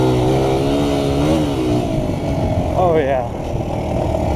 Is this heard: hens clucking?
no